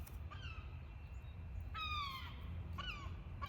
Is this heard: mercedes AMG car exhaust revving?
no